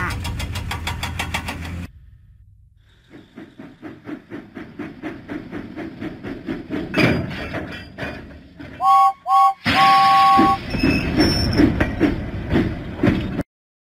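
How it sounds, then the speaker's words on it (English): Steam engine puffing in a Thomas & Friends video game: after a brief opening sound, a run of rhythmic chuffs builds in pace and loudness, broken by short bright whistle-like tones and then a louder rush. "James pumped his pistons and puffed out of the docks."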